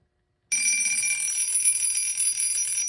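A 1950 Seth Thomas Poise alarm clock rings with a steady, loud metallic bell clatter that starts abruptly after a short silence and continues without pause.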